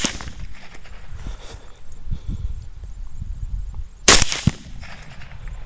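A single sharp, loud rifle shot cracks out during a night hog hunt, followed by a smaller report just after, over a low, steady outdoor background.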